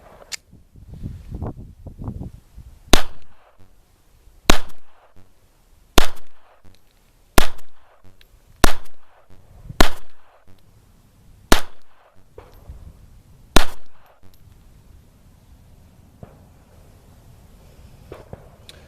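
A Walther PP pistol fires about nine sharp, loud shots at uneven intervals of roughly a second or two, each crack ringing out briefly, followed by a quiet tail.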